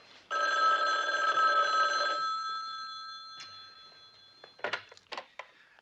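An old-style telephone bell rings loudly and steadily for about two seconds, then fades, followed by a few brief sharp clicks or knocks, with no talking heard.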